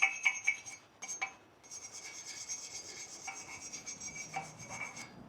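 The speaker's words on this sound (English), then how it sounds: "We're gonna get a wire brush and we're gonna clean this up right quick" Wire brush scrubs surface rust and mud off the front brake hub of a Chevy Colorado, quiet scratchy rasping strokes, a few short bursts then a sustained stretch of brushing, no talk.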